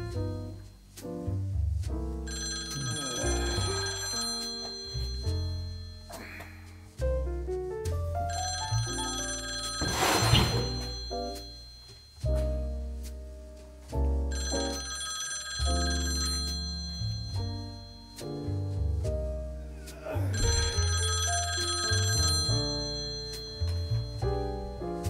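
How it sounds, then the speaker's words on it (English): A telephone rings in four long, repeating bursts separated by short gaps, over a melodic background. "Phone ringing?"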